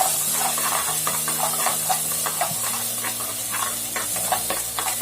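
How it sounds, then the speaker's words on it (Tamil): Ground paste sautéing in a pan for a Tamil drumstick leaf (murungai keerai) soup, a steady close sizzle and hiss with intermittent scrapes and stirring clatter throughout. "போட்டுக்கிட்டு நம்ம அரைச்சி வச்சிருக்கிற விழுதை நல்லா வதக்கிக்கலாம்"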